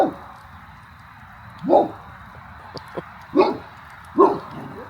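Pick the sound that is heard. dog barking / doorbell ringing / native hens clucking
dog barking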